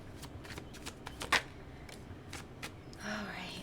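Tarot cards are shuffled by hand in a series of quick, crisp riffles and soft flicks, close and fairly quiet, ending with a brief light slide of the deck.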